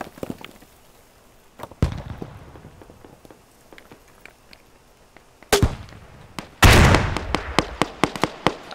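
Explosions and gunfire in the military shooter video game Squad: scattered sharp cracks and shots, then a loud, close blast followed by a rapid series of bangs.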